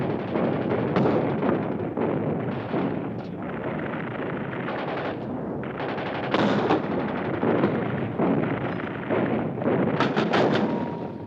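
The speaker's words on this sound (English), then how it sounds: "Heavy mortars firing from 8 miles away blasted the interior of the strongholds." Heavy mortar and artillery fire from the Egyptian offensive of the Yom Kippur War pounds continuously, a dense, loud barrage of overlapping blasts and rapid reports with no pauses.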